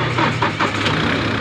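A Mahindra engine, started after a solenoid repair, runs with a steady mid-pitched rumble close to the microphone and has no talk over it.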